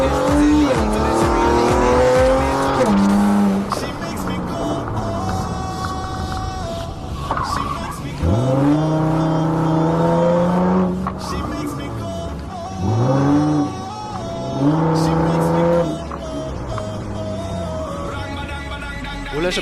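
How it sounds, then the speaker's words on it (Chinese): A modified street car in a video game police chase revs hard in repeated loud surges, with tires squealing and skidding between bursts of acceleration. "无论是暴躁的油门声，还是灵敏的刹车，都能看出来这辆车老哥花费了不少心思改装。"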